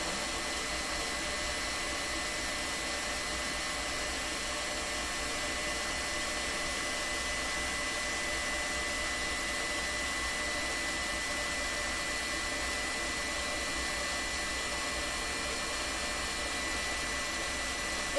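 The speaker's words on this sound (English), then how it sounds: "This whisk works a lot better than the other one." An electric whisk whips egg whites with a steady, unbroken high whirring hum that stays at constant loudness throughout, close by and with no voices.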